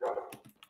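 Dog growling in the Minecraft video game, a single short, sharp canine growl-bark that fades quickly, heard close and alone.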